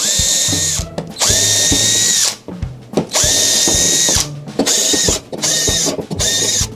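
A power drill bores air holes in a snake enclosure, running in short loud bursts of whining motor with brief pauses between holes, repeated about seven times close up.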